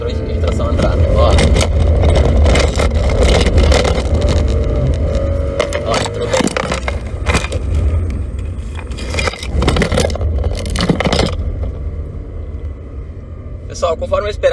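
A 2021 Volkswagen Nivus entry-level version revs as the driver downshifts, its engine a loud, continuous low rumble with surging bursts and scraping noises heard from inside the car.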